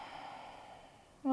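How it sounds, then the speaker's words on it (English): A single soft, breathy exhale during a beginner's yoga pose, quiet and close, ending with a brief louder sound. "look up and exhale"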